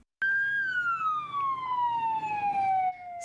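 A single emergency vehicle siren sounds on a road in St. Ann, Jamaica. It starts abruptly with a loud, clear wail that slowly falls in pitch and carries alone.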